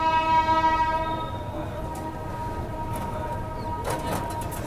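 Train at Bandikui junction on the Jaipur–Agra line sounds a sustained multi-tone horn for about a second, then its wheels rumble on with faint clatter and a few short clanks.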